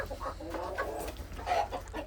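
Chickens on a small poultry farm that also keeps Muscovy ducks and ducks cluck steadily at moderate volume through the short stretch, with soft overlapping calls and farmyard background noise and no talk.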